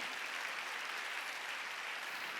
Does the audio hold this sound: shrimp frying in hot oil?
no